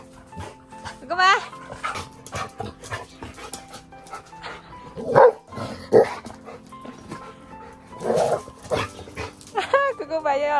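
Several dogs in a small yard bark, yip and whimper in scattered bursts, close by, mixed with people talking.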